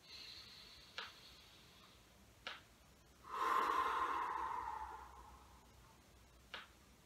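A seated gentle-exercise breathing drill: one long, soft, breathy exhale lasting about two seconds, heard close and alone in a quiet room, with a few faint ticking clicks before and after.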